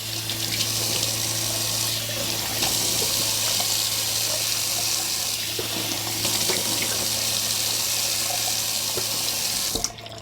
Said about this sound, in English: let's do a little cold water, more like a room temperature rinse.